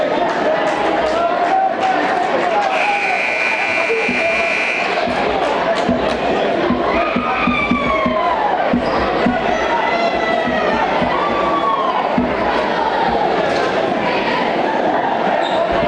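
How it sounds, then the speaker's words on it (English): High school basketball game crowd with a cheering squad chanting and yelling, dense crowd noise, whistles and squeaking shoes, a loud buzzer sounding briefly, continuous and loud throughout. "There's our Red Raider cheering squad right there."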